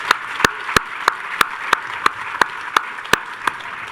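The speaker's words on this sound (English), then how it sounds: "Could we take a moment and just give applause to the staff and administrators" Applause at a university commencement ceremony for the staff and administrators, a soft bed of crowd clapping punctuated by sharp, evenly spaced loud claps close by, repeating about three times a second.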